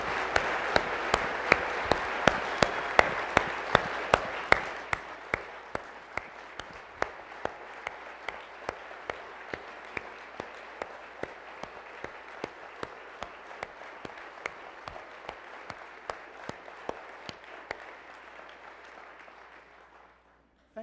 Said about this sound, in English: Let's give him and his family a round of applause for his service.